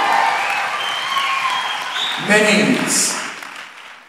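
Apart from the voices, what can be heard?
applause for the mini outstanding dancers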